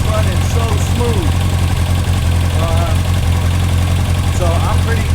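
A project motorcycle idles smoothly and steadily after repair work and carburetor synchronization, its low engine rumble continuous and close throughout, with a voice faintly audible over it.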